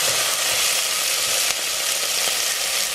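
Tomatoes sizzle and fry in hot cooking oil in a pan for sinigang na baboy, a steady loud hiss of crackling oil with no talk over it.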